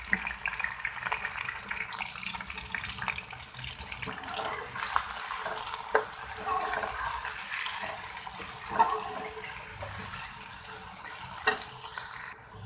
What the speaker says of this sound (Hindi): प्याज को हम ब्राउन होने देंगे।